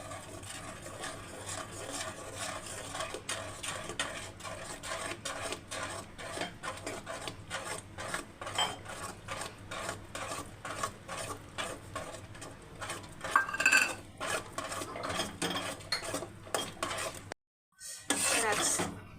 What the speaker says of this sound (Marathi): आता मी कढाईमध्ये टाकून घेते